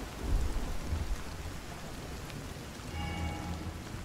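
Rumbling thunder and steady rain in Zelda: Tears of the Kingdom, set off by a lightning rod, with low rolls near the start and again later over a constant wash of rainfall.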